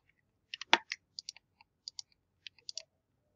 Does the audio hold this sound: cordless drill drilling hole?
no